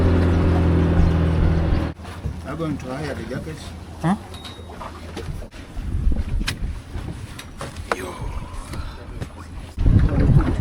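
A boat churns across Lake Victoria with wind buffeting the microphone, while people talk nearby and a bird calls faintly.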